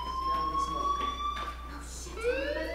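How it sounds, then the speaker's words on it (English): A fire alarm in the video game Life is Strange rings with steady, piercing electronic tones that slide upward near the end, loud and continuous for the whole stretch. "do you hear that fire alarm? That means you should be outside."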